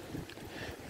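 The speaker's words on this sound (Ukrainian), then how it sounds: "Нехай вітер утихне." Steady outdoor wind gusting and buffeting the microphone in a rose garden, a continuous rushing roar with no speech.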